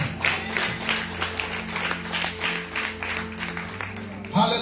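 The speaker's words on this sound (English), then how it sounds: "Give a lot clap." Church congregation clapping at a thanksgiving service after seven days of dry fasting, rhythmic steady hand claps continuing for several seconds under a sustained musical drone, with a voice talking over it.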